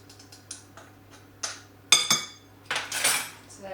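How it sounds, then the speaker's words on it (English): Banana cake batter with cinnamon is mixed in a bowl, heard as intermittent clinks and scrapes of a utensil against the dish, getting louder and busier toward the end, close and with no talking. "And just give it all a jolly good mix up."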